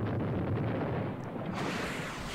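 Rocket artillery explosion in Panzer Battles, the Kursk southern flank battle near Prokhorovka: a sustained low rumbling blast with a sharper burst midway, fairly faint, no voices.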